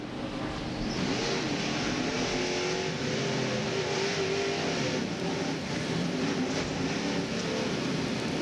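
A 1998 NASCAR Winston Cup stock car racing at Atlanta Motor Speedway, heard from the in-car camera: a loud, continuous engine roar that holds steady throughout, with no talk.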